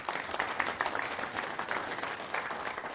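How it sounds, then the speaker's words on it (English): Conference audience applauding during a talk at FOSDEM: a soft, continuous patter of clapping from a crowd at a moderate distance, with no speech over it. "So applause for them."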